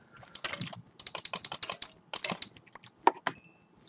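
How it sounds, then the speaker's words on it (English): Rapid bursts of mouse clicking while playing Minecraft, close and crisp, coming in quick clustered runs with short pauses between. "All you hear is mad clicking"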